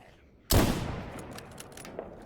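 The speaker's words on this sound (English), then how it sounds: "I can fire single TT bullets at the little guys" A single TT pistol shot in the video game S.T.A.L.K.E.R. G.A.M.M.A. cracks loudly and sharply, then trails into a long fading reverberant echo with faint background clatter.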